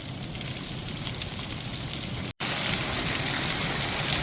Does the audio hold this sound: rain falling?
yes